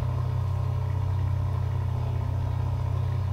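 A steady low rumble of a heavy truck engine, continuous and fairly loud, droning without a clear rise or fade.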